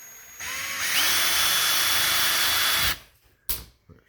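A power drill whirs steadily for about two seconds while backing screws out of a stick blender housing, then stops, followed by a few faint clicks and handling knocks.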